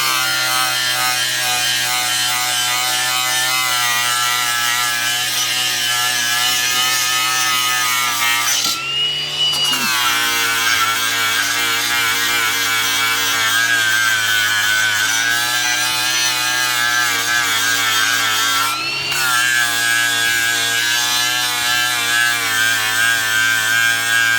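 A flap disc grinds powder-coated steel on a large fork for a Cat 299 D2 XHP quick attach plate: a loud, continuous, close-up abrasive whine that dips briefly twice as the disc shifts on the metal.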